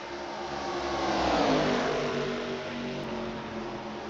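A video game race car engine at the Brickyard oval, revving in a sustained, slightly rising and falling drone that stays loud and close for the whole stretch, with no talk over it.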